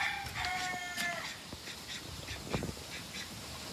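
Ducks in their cage on a farm give a few quacking calls near the start, followed by scattered faint clucks and rustling in quiet surroundings.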